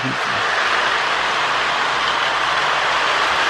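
A Lionel MPC GP9 model train locomotive runs on its track, a steady close motor whir with a rumbling, clattering rail texture and no talking.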